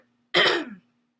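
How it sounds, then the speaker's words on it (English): A person gives a single short, harsh throat clear with a cough-like burst, close and loud, followed by silence. "I'm going to hope that I'm going to stop coughing at some point here in this video"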